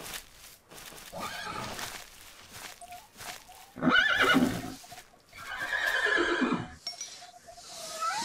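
Horses in the Minecraft video game whinny repeatedly in loud, drawn-out neighs, one call after another with short pauses between.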